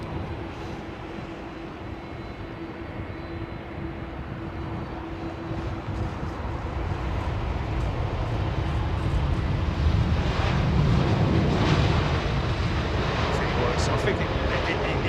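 Jet aircraft arriving on runway 27R, a low rumbling engine roar that swells gradually from a distant drone to a louder, closer pass over about fifteen seconds, with a steady hum throughout.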